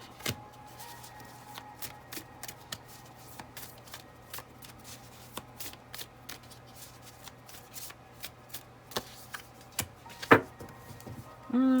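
Tarot cards are shuffled by hand up close, a run of quick riffling flicks and taps in irregular bursts, fairly quiet, with no talking.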